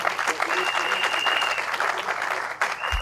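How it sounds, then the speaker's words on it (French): An audience applauding steadily for a person called forward, dense and fairly loud hand-clapping that briefly dips then resumes, with voices mixed in. "On peut applaudir pour lui."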